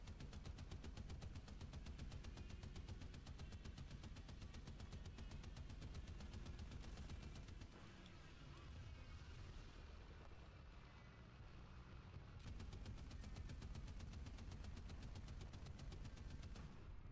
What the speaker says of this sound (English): I hop in my little AA gun.